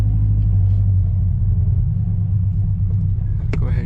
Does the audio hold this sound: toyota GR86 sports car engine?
yes